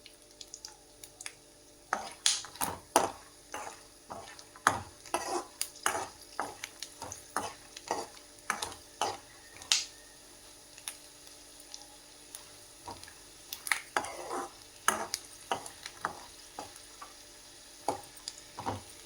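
Tamarind and fenugreek leaves frying in a pan for chutney, with steady soft sizzling and a run of repeated sharp scraping stirs, close and unbroken by talk.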